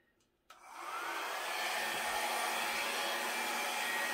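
A small hair dryer on its low setting blows across wet acrylic pour paint. It switches on with a click and quickly ramps into a steady, close whooshing airflow that holds at an even level.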